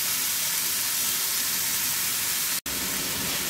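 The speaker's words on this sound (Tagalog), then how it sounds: "Igisa natin siyang saglit." String beans sauté in a hot pan with a loud, steady hiss of sizzling that runs throughout, broken only by a split-second cut near the end.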